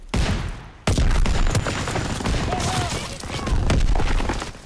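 Dense gunfire and a rocket explosion in the battlefield game Call of Duty WWII, a loud, sustained roar of overlapping shots and blasts with a sharp burst near the start and a heavier swell toward the end.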